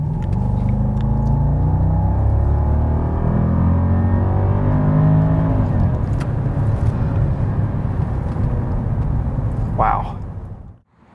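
A 2011 Jaguar XJ L accelerating in sport mode from about 25 mph, heard from inside as a rising engine hum and road rumble while someone talks over it, fading out at the end.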